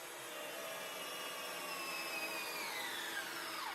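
A Ryobi cordless drill drives a 5/16 lag bolt into wood, giving a steady, faint whirring motor whine that slowly drops in pitch as the bolt bites deeper, with no talking.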